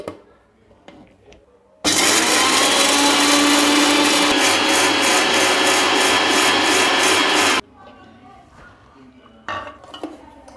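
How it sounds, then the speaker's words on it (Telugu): A mixer grinder whirs loudly as it grinds puffed jowar, a steady dense roar lasting several seconds and then cutting off abruptly, with quieter clattering of the jar before and after. "పేలాలని ఇలా మిక్సీ పట్టుకోవాలి"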